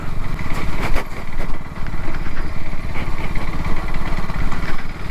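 A 2025 KTM Adventure 250 motorcycle engine runs steadily and fairly close, a rough rumbling idle with small revs rising and falling throughout.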